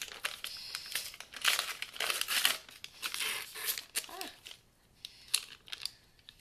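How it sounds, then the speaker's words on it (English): Paper wrappers are peeled off sticks of butter for a tart recipe in a home kitchen, with faint close crinkling and tearing in uneven bursts and short pauses between them. "I have not mastered the art of unwrapping the butter."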